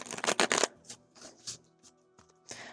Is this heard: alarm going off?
no